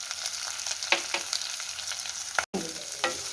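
Two green chillies and curry leaves sauté in hot oil in a pan, giving a steady close sizzle broken by a few sharp crackles and stirring clicks.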